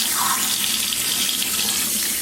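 Water running from a tap while a capuchin monkey is bathed: a loud, close, steady splashing stream that continues without a break and with no voices.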